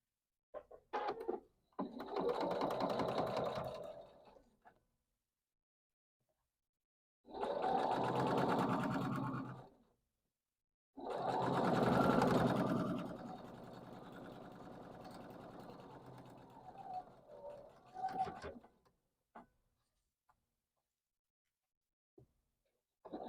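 A sewing machine stitches a pinned quilt block in three separate runs of rapid, even needle chatter, each a few seconds long, with quiet gaps and small handling noises between.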